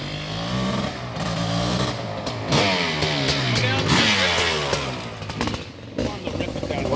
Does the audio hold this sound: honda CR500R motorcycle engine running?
yes